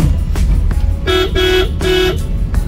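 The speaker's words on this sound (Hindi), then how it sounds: "और हॉर्न मैंने इसमें ओरिजिनल आपको बताया था कि मारुति के लगाए थे" Original Maruti horns of the kind fitted to a Swift, mounted on an old Maruti 800, honk three times in short blasts with a bright two-tone blare over road noise.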